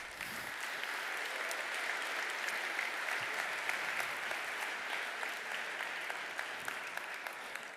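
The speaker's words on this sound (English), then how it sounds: "I think that's a round of applause." A conference audience gives a steady, even round of applause for a product announcement, heard from a slight distance.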